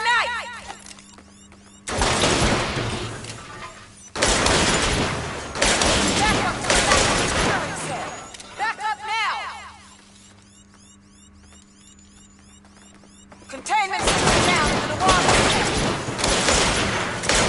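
Sustained video game gunfire rattles in long, dense bursts of rapid shots, several seconds each, separated by quieter stretches of mechanical hum and small clicks, with no one talking.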